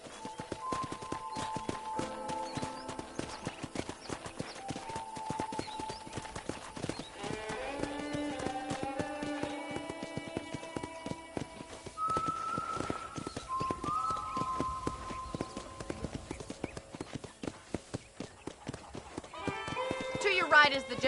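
A horse on a Wild West ranch clops along under a rider, steady hoofbeats running throughout beneath sustained musical tones and background game-style sound, with a whinny-like burst near the end.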